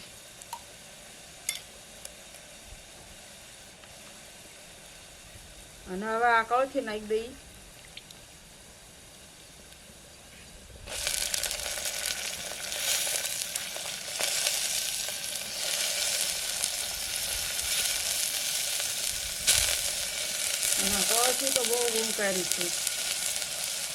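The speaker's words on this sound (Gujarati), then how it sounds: "લસણના મરસા તો લાલ થઈ ગયા છે જો આપણે હિંગ નાખી દઈએ" Garlic sizzles in hot oil on a village stove as asafoetida is added for tempering, a quiet crackle that jumps to a louder, steady frying hiss midway, with a voice speaking briefly twice.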